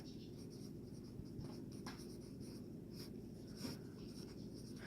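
A pen scratches faintly as the quadratic formula is written out by hand. Soft intermittent strokes sit over a constant low background hum.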